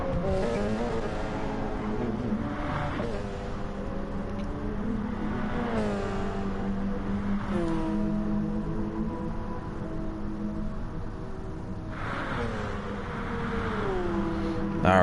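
LMP prototype race cars in an IMSA racing game scream past during qualifying, their engines rising and falling through gear changes, with fresh passes arriving every few seconds over a continuous high-revving drone.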